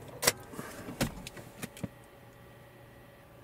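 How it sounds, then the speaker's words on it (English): A Toyota RAV4 is switched off in a parking spot. A few close clicks and thumps give way to near silence as the engine stops. "Right now I will turn off the vehicle."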